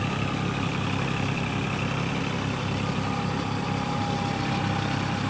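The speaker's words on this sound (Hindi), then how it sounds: "अब ये देखो खेतों में ट्रैक्टर चल रहे हैं" Tractors running in waterlogged fields being prepared for rice transplanting, a steady droning engine hum with broad noise and no clear change in pitch or rhythm throughout.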